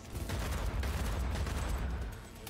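Gunfire from a pistol in the video game Cyberpunk 2077, a dense, continuous rattle of shots with heavy low-end thumps over 2.6 seconds, loud and steady throughout.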